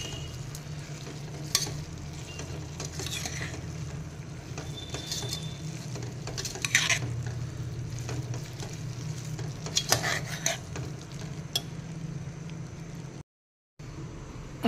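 A soya pulao mixture sizzles in a pan while a spoon stirs and sautés it, scraping and clinking in irregular bursts over a steady frying hiss, close up with no talking.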